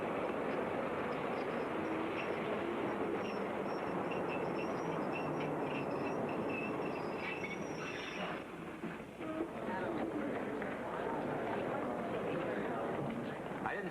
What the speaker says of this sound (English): I didn't see Eddie get off a train